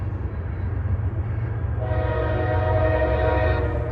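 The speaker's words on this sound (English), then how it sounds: "There's a Norfolk Southern train." A Norfolk Southern freight train rolls past with a steady low rumble, then its multi-tone horn sounds loudly partway through and holds, fairly close.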